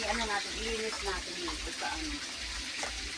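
Water being poured into a container, a continuous gushing trickle heard under people talking close by.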